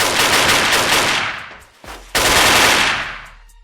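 Automatic gunfire in the online shooter game Wolfteam, with two dense rapid bursts of shots close and loud. A short gap separates the bursts, and no one talks over them.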